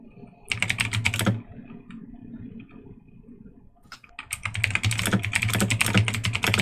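Fast clicking on a computer keyboard, in two dense bursts of keystrokes split by a brief pause, close and clear.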